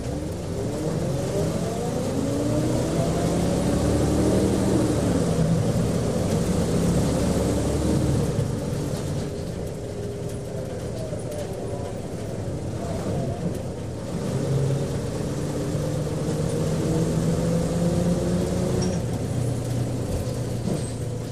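A bus drives along the road with a steady, loud engine rumble and rising and falling revs heard up close for about twenty seconds.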